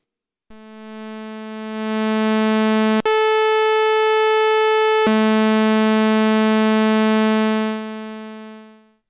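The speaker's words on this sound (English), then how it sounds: "This is the sound of a saw wave." Analogue synthesizer oscillator playing a saw wave through a low-pass filter, a bright buzzy sustained tone that swells in, jumps to a higher pitch for about two seconds, drops back, and fades out.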